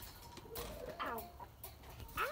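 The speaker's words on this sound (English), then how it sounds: "so now we're in the chicken coop" Chickens cluck and murmur inside a backyard chicken coop, a busy, close cluster of short overlapping calls with scuffling and movement noise running throughout.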